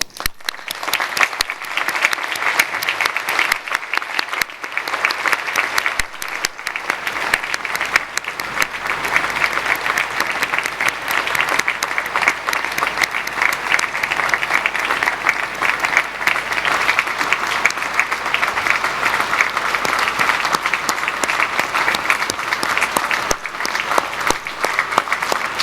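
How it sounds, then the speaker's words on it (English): A large audience applauds at a gathering honouring survivors and refugees, a dense, loud and unbroken wash of clapping that lasts about twenty-five seconds with no speech over it. "I think we should all offer them our applause"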